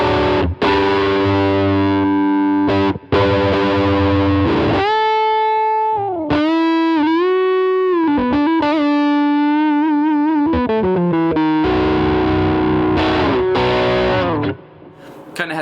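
Electric guitar played through a fuzz pedal on a Line 6 Helix with a Princeton amp model, thick saturated chords giving way to gliding bent single-note lines with vibrato, loud and close, alone with no talk.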